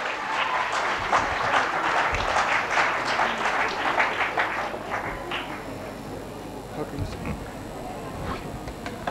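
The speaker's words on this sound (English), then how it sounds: "Give him a big round of applause." Audience applause at a scientific conference on meditation and stress coping, dense steady clapping that swells then gradually thins toward the end, with some voices in the hall.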